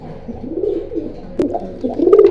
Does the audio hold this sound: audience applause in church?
no